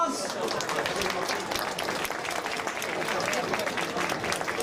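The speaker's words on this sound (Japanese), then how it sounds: "両選手に大きな拍手をお願いいたします。" After a Muay Thai bout ends in a draw, the audience applauds both fighters with dense, continuous clapping that holds at an even level, with faint voices mixed in.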